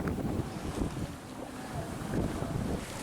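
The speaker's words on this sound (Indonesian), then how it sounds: "angin kencang yang melanda perairan Karimun" Strong wind over the waters of Karimun, Indonesia, roars and buffets steadily throughout, with rough low rumbling and gusty surges.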